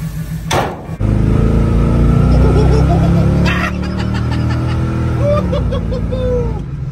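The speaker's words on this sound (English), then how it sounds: "It's got a little valve noise on this side." A 1965 Chevy II V8 with a slightly loose rocker arm idles steadily up close, a low continuous engine rumble carrying faint valve ticking, with brief voices and a laugh over it.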